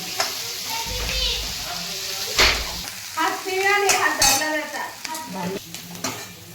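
Masala being stirred and fried in a pan for shev bhaji, with a continuous sizzle broken by scraping strokes and clinks of the spoon against the pan, close up, with someone talking at times.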